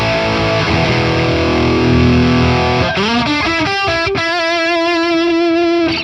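Electric guitar through the modern amp sim of the Polychrome DSP Nunchuck, a loud distorted tone with a noisy fizzy edge, first a thick sustained chord, then bright ringing single notes and bends held alone.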